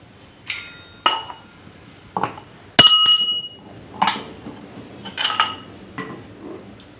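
A heavy stone pestle is set on a pot lid to seal in steam for dum cooking Mughalai chicken pulao. It makes a series of sharp metallic clinks and clanks, one loud ringing knock among them, with no voices.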